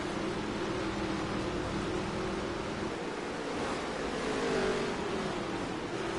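Onboard the 64 dirt track race car, the engine drones loudly and continuously under heavy wind and road roar, with pitch shifting slightly as it rises and falls.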